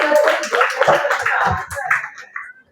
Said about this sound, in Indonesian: beri tepuk tangan yang meriah atas paslon nomor urut